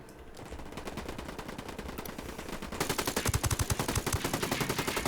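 Sustained automatic gunfire in the video game Ghost Recon Wildlands, a long rapid rattle of shots that grows louder and punchier halfway through, dense and continuous with no talking.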